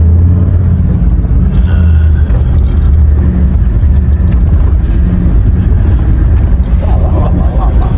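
An overlanding vehicle is driven, giving a loud, constant low engine drone and road rumble with wind buffeting throughout, while people talk faintly inside the cabin.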